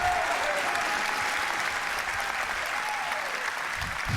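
Dense, steady applause from a large crowd at the Ubisoft E3 2019 press conference, continuous and loud throughout with no pauses.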